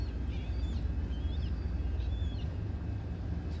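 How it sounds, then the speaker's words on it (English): Seagulls calling at Fulton Harbor, their short, high cries coming faintly from a distance in a few scattered bursts over a constant low rumble of background noise. "Sounds like someone's feeding the seagulls over there"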